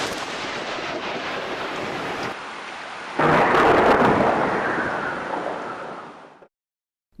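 A loud, rolling rumble of thunder swells suddenly, then slowly fades before cutting off, with a hiss like rain beneath it.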